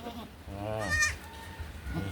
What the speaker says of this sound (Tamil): பெரிய ஆடு கத்துது